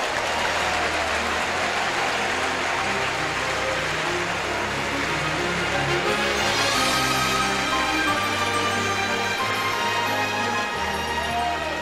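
A church congregation applauds at a missionary jubilee service, a dense, steady wash of clapping that fills the room throughout with a low sustained tone underneath.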